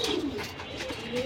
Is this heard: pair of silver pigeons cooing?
yes